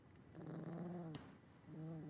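A puppy growls low and close in two rumbling bursts separated by a brief pause, alone with no talk.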